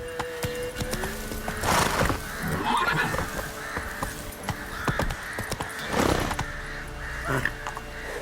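In The Witcher 3, a horse gallops with rhythmic clip-clopping hooves and occasional whinnies, plus bursts of game sound effects and crow calls in the background, moderately loud throughout.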